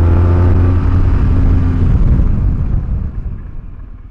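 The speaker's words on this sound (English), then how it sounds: "put all bikes through panic braking, straight line about 60 miles an hour" A BMW R1200GS motorcycle brakes hard in a straight line from about 60 mph, its loud engine and wind roar fading away steadily over a few seconds.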